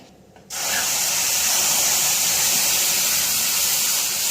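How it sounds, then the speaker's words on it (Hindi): Milk is poured into roasted vermicelli in a hot pan, bursting into a sudden loud, hissing sizzle that stays steady and close for several seconds, with no voices. "तो अब हम इसके अंदर दूध ऐड कर देते हैं, थोड़ा थोड़ा करके डालेंगे"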